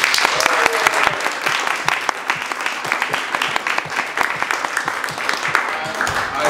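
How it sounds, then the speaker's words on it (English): An audience at a theater talk-back applauds the actors of a stage play: dense, steady clapping from a crowd, fairly loud and sustained throughout with a voice faintly underneath. "let's give the actors a round of applause"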